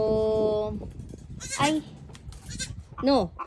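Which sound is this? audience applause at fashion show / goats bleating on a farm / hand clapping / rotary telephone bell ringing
goats bleating on a farm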